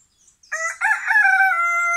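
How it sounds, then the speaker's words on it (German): A Silkie rooster crows close by, a single drawn-out cock-a-doodle-doo that rises after a faint opening note and holds loud and steady to the end. "Achtung, wenn er kräht, obacht."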